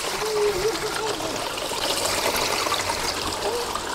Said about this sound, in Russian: то есть звук воды должен уйти